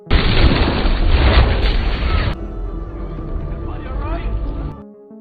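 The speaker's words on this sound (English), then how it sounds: "The bomb instantly exploded, destroying the room." A bomb blast tears through a room in one loud, close, broad boom, followed by a rumbling, fading aftermath for several seconds.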